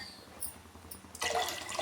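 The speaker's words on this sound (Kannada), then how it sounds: "ಇನ್ನೊಂದು ಸ್ವಲ್ಪ ನೀರು ಹಾಕೋತಾ ಇದ್ದೀನಿ ನಾನು." Water is poured into a pressure cooker holding rice and lentils for khichdi, a short splashing gush that starts abruptly after a quiet moment and runs to the end.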